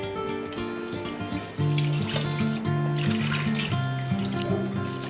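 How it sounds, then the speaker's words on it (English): Water is poured into a lightweight steam canner, filling it with about two and a half quarts: a steady, close pouring and splashing runs without a break beneath faint tonal background music. "Got our 2½ quarts of water in the canner"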